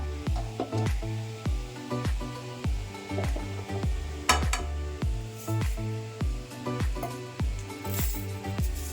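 Steady sizzling of grated coconut roasting in a hot pan with repeated scraping and stirring strokes, a rhythmic clink of a spoon against metal throughout.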